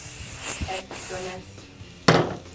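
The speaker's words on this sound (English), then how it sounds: "before I can say this is done, I have to spray it." Two short bursts of spray hiss from an aerosol can, close by, separated by a brief pause with some faint background noise.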